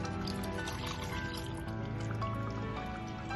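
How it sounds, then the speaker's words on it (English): Water is poured into a cooking pan for pav bhaji, giving a soft, continuous trickling and filling sound at low volume against faint kitchen background hum. "Add in some water."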